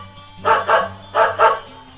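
A dog barks four times in two quick pairs, close and loud, with a low hum underneath.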